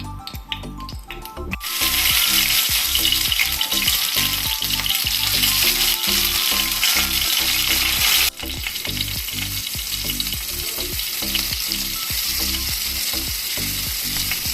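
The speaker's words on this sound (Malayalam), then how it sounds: "എണ്ണ ഒഴിച്ച് കൊടുക്കുക മീൻ വറക്കാൻ മത്തി കൊച്ചുമത്തി വറക്കാൻ" Small sardines fry in oil in a Kerala kitchen, a loud, dense, unbroken sizzle that jumps up sharply after a quiet start, then eases slightly partway through while continuing steadily.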